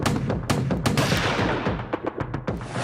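A rapid, uneven burst of sharp cracks, close and loud, like a volley of gunfire with echoes trailing between shots, fired during voting in the Haryana assembly elections.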